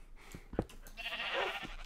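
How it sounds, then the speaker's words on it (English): A rainbow sheep in a Minecraft Lucky Blocks duel gives a short, quiet bleat, preceded by a few soft clicks and thumps. "More rainbow sheep."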